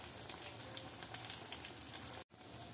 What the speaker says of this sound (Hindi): देखिए तेल गर्म हो गया है। अब चमचम डाल देते हैं